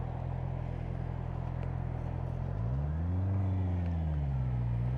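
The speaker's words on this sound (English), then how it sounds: "Big stream of cars coming, so we're going to be stopping." Cars streaming past at a road junction, a continuous engine drone with a rising and falling pitch as a vehicle passes close by, steady and fairly loud from inside a stopped car.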